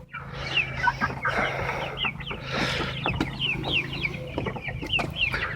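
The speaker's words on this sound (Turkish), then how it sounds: "Koca tavuk oldular." A flock of two-month-old chickens clucking and cackling nearby, busy overlapping calls throughout with a low steady hum underneath.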